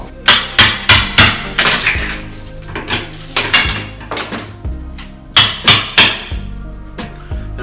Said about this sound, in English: I'm gonna try to use like a 6-in-1 painter's tool to pop the tile off.